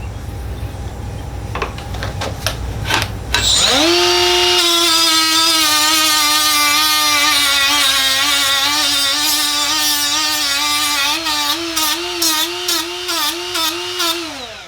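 A power drill whirs loudly and steadily for several seconds after a few clicks and taps, its pitch dipping slightly near the end.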